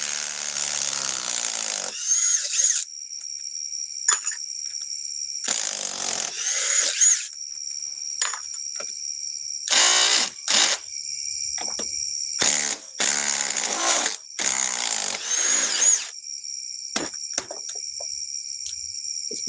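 A Ryobi power tool driving sockets gives off repeated bursts of high, whining motor noise with short pauses between runs, fairly close and with no talking.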